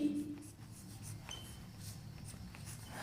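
Pen or chalk scratches across a writing surface in short strokes, faint and close, under a quiet room hum.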